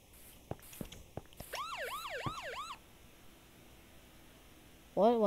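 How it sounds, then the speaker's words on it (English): An ambulance siren in Minecraft wails in a short, quick, rising-and-falling pattern after a few sharp clicks, then cuts out and briefly returns at the end. The siren is faint and heard alone. "Why is there an ambulance there?"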